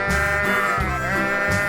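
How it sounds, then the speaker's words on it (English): Sheep bleat in a cartoon, several loud, wavering calls close together that fill the short stretch without any talk. "Sheep."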